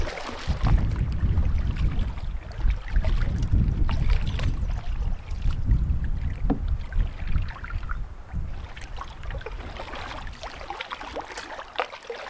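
A canoe is paddled across Shawanabis Lake in the boreal wilderness of Wabakimi, with soft water swishes and splashes from the strokes in a rough rhythm over a low rush of wind on the microphone.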